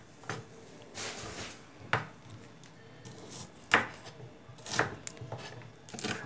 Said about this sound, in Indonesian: Untuk bawangnya saya bakal iris terlebih dahulu.